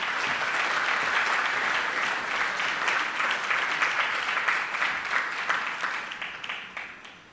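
Dense, sustained audience applause fills a hall after a keynote speech at an International Monetary Fund and World Bank constituency meeting, steady at first and then tapering off toward the end.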